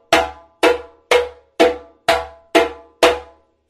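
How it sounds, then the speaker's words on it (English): Seven sharp, ringing open-handed slap strokes on a djembe, evenly spaced about half a second apart, each a bright crack with a quick decay, played alone and close. "Our slaps on djembe look and sound something like this."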